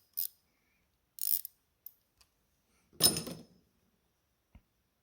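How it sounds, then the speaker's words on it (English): Wrench work on a John Deere 720 pony motor's connecting rod bolts: a few separate metallic clicks and ratchet-like bursts with silent gaps, one longer rattling clatter near the middle, then a single soft knock, close and fairly clear. "I'm going to remove the bolts connecting these top two connecting rods."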